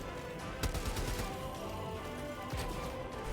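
Rapid bursts of AR-2 Coyote assault rifle fire in the Helldivers 2 video game, sharp cracking shots in quick strings amid game ambience, fairly quiet overall.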